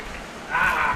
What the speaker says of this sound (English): As they get the unison of claps going once again